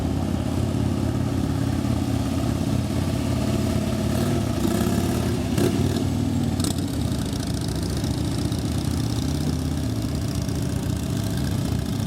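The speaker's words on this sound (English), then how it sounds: "seeing as you guys really enjoyed how slow they can make these motorcycles go" Police motorcycles rolling along very slowly, steady low engine idle and gentle throttle burbles, close and continuous with a few brief sharper noises in the middle.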